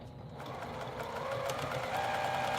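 A sewing machine stitches pillow fabric with a steady, close, continuous whirring hum and no other sounds.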